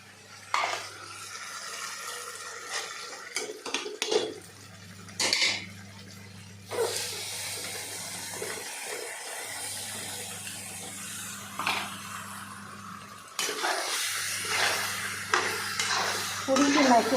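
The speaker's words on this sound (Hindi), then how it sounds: "थोड़ी सी मैक्रोनी डाल कर खूब अच्छे से चला लेती हूँ" Macaroni stirred with garam masala in a cooking pot, with scraping and clinking of a spoon against metal in scattered bursts over a low steady hum, mostly moderate and fairly close, with some faint talking in places.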